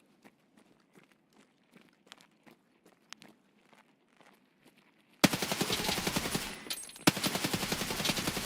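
Gunfire in a PvP video game: after quiet crunching footsteps, a loud sustained burst of rapid automatic shots erupts, briefly breaks, then resumes, close and dominant.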